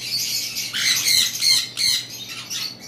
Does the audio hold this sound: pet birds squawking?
yes